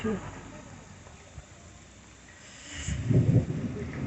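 A low, distant rumble of thunder swells near the end over a steady outdoor background hiss, during a lightning storm in hills near the Nepal border at Tumling.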